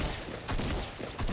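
Shotgun blasts in the Fortnite video game, a few quick heavy bursts in rapid succession, loud and close with no talk over them.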